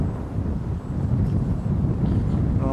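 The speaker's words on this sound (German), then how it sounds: "Das kleine Modell richtig viel Wind eigentlich heute, ne, Hans?" Strong wind buffets the microphone at a model airplane field during an RC electric scale Fokker Dr.1 flying meeting in Birkholz, Germany, a steady loud rumbling roar throughout.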